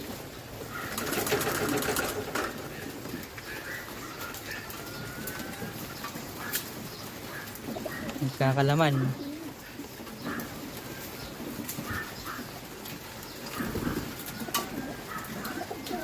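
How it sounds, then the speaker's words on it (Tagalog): Pigeons in a loft cooing at feeding time, with scattered low coos and one loud close bout midway over soft background rustle and a brief spoken word. "Mga kalapati natin medyo nanginginig-nginig yan sa lamig."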